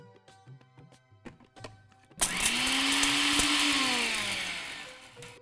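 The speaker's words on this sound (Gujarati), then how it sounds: "આપણે એને એક મિક્સર જારમાં લઈને ગ્રાઇન્ડ કરી લઈએ" A few clicks and clatters, then a mixer grinder grinding a spice mix whirs on loudly, spinning steadily at high speed and slowly winding down near the end.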